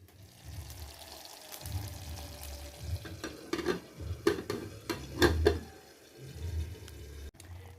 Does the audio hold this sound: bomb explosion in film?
no